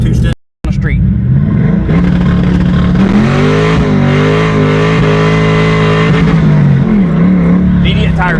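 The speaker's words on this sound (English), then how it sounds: "Immediate tire spin." A car with a newly installed clutch launches on the street with immediate tire spin, a loud, close engine revving hard and holding a high, wavering note for several seconds before easing off.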